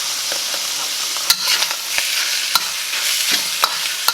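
Sausage and potato hash fries in oil with a bright, steady sizzle, broken by sharp scrapes and clacks of stirring at irregular intervals, close and loud.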